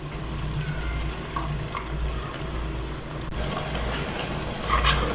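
A blended yogurt and browned onion mixture pours into a pot of chicken nihari, giving a steady, close, liquid gushing and splashing that runs continuously, with small bumps near the end.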